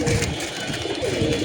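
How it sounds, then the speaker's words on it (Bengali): Pigeons coo in low, soft repeated calls as young birds fly down and land in a loft, close and fairly loud against a busy background. "কবুতরগুলো উড়ে নামছে"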